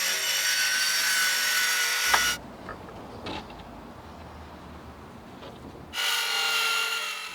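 Harsh, steady sawing through tiny house siding boards, loud and close, running in two separate passes with a quieter pause between them.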